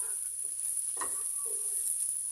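Julienned carrots sizzle in a hot pan for Chinese vegetable noodles, a steady hiss with a brief stirring scrape in the middle, close and moderately quiet.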